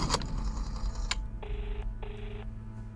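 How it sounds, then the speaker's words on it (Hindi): A telephone number is dialed: a couple of sharp clicks followed by two evenly spaced touch-tone beeps, close and clear over a low background hum, with no voices. "शाहिद तुम अपने प्रोफेशनल किलर को फोन लगाओ, हम खुद उससे बात करेंगे।"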